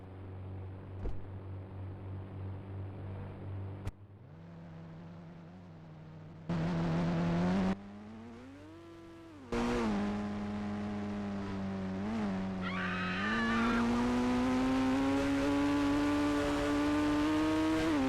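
A car in the Indian Bike Driving 3D video game, driving fast: engine revs rising and falling in steps, with abrupt cuts and bursts of noise, then a loud sustained whine and roar to the end.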